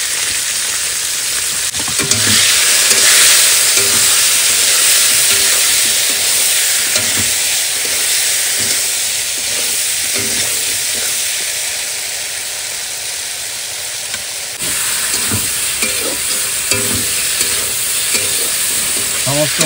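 Turmeric, salt and ginger with other spices are stir-fried for a curry, giving a steady, loud frying hiss close by, broken by repeated scraping strokes of a spatula in the pan.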